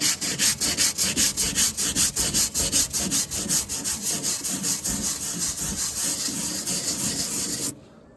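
Teak wooden toe rail on a sailboat being scrubbed across the grain, a fast rhythmic rasping of roughly two strokes per second, close and loud, stopping abruptly near the end.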